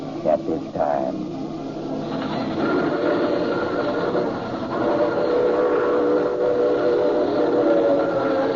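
A train runs in a radio drama, a steady rumbling rail clatter under a short whistle-like tone at the start, continuing as a constant background bed.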